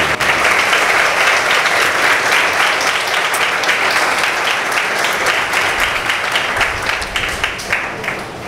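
Loud, sustained applause from a worship gathering at a sermon, many hands clapping in a full, continuous roar that tapers slightly near the end.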